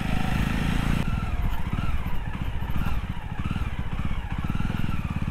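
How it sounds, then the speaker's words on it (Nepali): A motorcycle engine idles steadily and loudly up close, with a dense, even throb, while the bike is being washed at a riverside. "बाइकको धुलाइ हुन्छ मजाले, यहाँबाट न्युट्रल गरौँ न, न्युट्रल"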